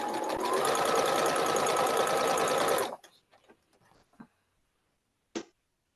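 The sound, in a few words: sewing machine stitching quilt block pieces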